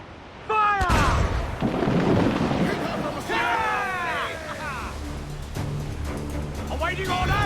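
Ship cannons firing during a naval battle in Assassin's Creed IV: Black Flag, a sharp loud boom near the start followed by rumbling battle noise, creaking and shouted commands from the crew throughout.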